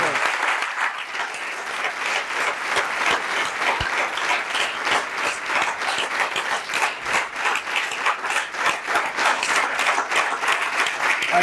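A church congregation applauding the Lord during a Sunday service, with steady, dense clapping from many hands that carries on for the whole stretch and sounds fairly close and lively.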